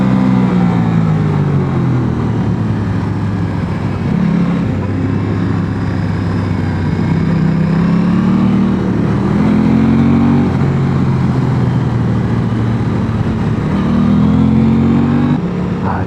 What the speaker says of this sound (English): Gives the throttle a little blip.